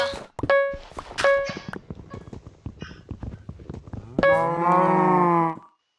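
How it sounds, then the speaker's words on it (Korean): A Minecraft cow moo stretches long and loud near the end, preceded by quick clopping thuds and short animal calls. "음매가 두 마리 있습니다."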